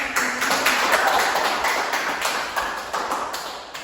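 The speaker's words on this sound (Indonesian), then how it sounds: "Tepuk tangan." A classroom of students clapping together, a dense rapid patter of many hands filling a short burst, loud and close, fading slightly toward the end.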